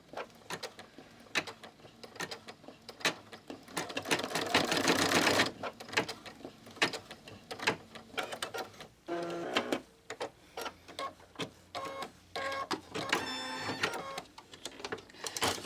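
Embroidery machine stitching to tack ribbon down on an in-the-hoop USB holder, a close, rapid mechanical chatter in bursts with brief pauses and clicks between runs.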